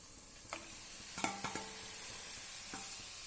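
Marinated chicken going into a biryani pot that already holds yogurt, making a soft, fairly quiet sizzle with a few clinks and scrapes of stirring, close and without talk.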